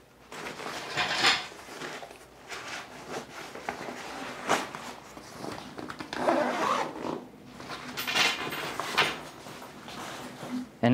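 A zipper on a Yonex racket bag is pulled in several short rasping strokes, close and fairly clear, mixed with handling clatter of the bag and equipment.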